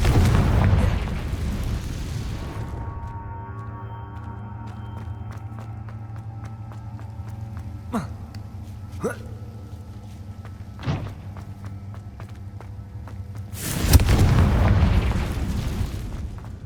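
A Confringo fire spell bursts in Hogwarts Legacy, with a loud blast at the start and another near the end, a few sharp pops between, and a steady game hum underneath.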